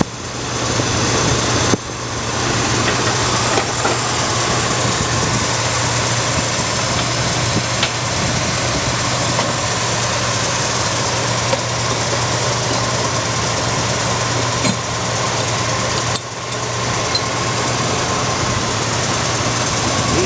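An unrestored 1978 Ford F150 pickup with its original Motorcraft 4-barrel carburetor idles steadily up close, a constant low engine hum with no one talking.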